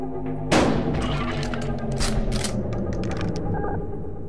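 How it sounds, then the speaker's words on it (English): A shotgun blast fired at the dealer in Buckshot Roulette hits sharply, followed by mechanical clicks and clattering of the gun's action ringing on for several seconds. "Shoot the dealer."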